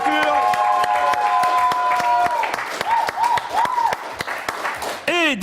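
Audience applause and cheering for a guest sculptor on a French TV news show, a steady dense roar of clapping mixed with crowd noise and musical tones, with a voice speaking over it.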